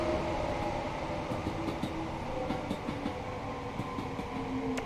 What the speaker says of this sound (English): So there's the other green train.